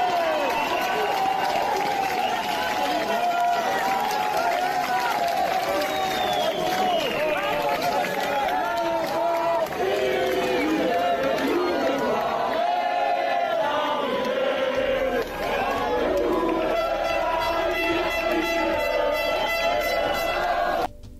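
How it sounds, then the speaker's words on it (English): A yellow vest protest crowd chants nationalist slogans in unison, the massed voices loud, close and continuous, with general crowd noise around them. "the yellow vest and the crowd recite nationalist chants like, "This is our home,""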